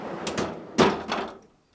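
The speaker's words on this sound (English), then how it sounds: "Start by opening the freezer door," A GE refrigerator freezer door being opened, with a few short knocks and rattles followed by a firmer thump and a fading clatter, close by.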